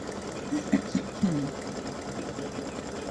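A sewing machine stitches an appliqué champagne-glass design on a side seam with matching thread and regular bobbin thread, giving a steady close whir with a few sharper clunks near the start and a faint voice underneath.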